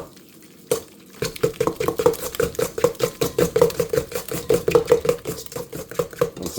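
Vanilla extract being stirred into wafer batter in a bowl, a steady rhythmic scraping and knocking of the utensil against the bowl that runs close and fairly loud after a brief quiet start.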